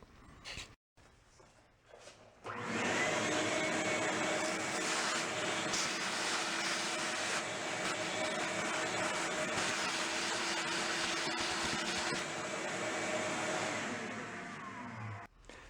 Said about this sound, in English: let me go vacuum that out